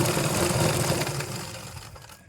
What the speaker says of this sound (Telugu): ఈ విధంగా పట్టుకొని ఇలా స్టిచ్ వేయాలి